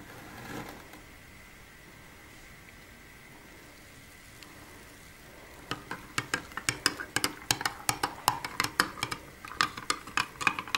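A spoon stirs homemade almond powder into a cup of boiled milk, making a quick run of sharp metallic clinks against the cup after a quiet start.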